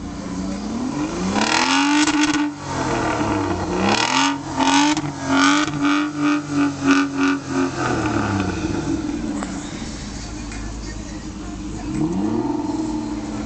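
An Aston Martin DB9 engine revs repeatedly and loudly close by, with rising and falling pulls and a rapid burst of throttle blips in the middle, ending in a steadier idle and one more rev.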